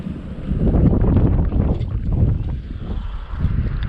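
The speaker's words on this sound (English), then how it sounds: "And the wind is ripping and there's swells." Strong wind buffeting the microphone on a lake while bass fishing, loud low rumbling gusts that swell and ease in uneven waves, close and continuous with no talking.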